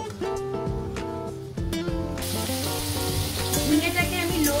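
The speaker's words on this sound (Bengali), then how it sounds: "ঝিঙেটাকে আমি লো টু মিডিয়াম ফ্লেমে আমি 2-3 মিনিট আমি ভেজে নিয়েছি" Ridge gourd frying in mustard oil in a wok, a steady broadband sizzle that grows louder and brighter partway through, under background music with no talking.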